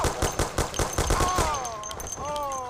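Rapid automatic gunfire in the Mafia: The City of Lost Heaven video game, a fast burst of shots for about a second and a half that trails off, with voices talking and shouting over it.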